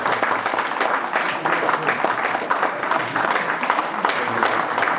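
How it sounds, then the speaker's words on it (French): A room of people applauds a cycling club president with dense, continuous clapping, close and fairly loud, holding steady throughout with faint voices mixed in. "On peut l'applaudir, hein."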